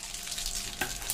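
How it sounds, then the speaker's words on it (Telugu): Onions, garlic, green and dried chillies and curry leaves crackle and sizzle in hot oil as a tempering for palak mango moong dal, a close, continuous fry with a brief stirring burst near the end. "తాలింపు వేసేస్తున్నానండి చూడండి తాలింపు వేసేటప్పుడు ఆ సౌండ్ వస్తే చాలా చాలా బాగుంటుంది కదండి"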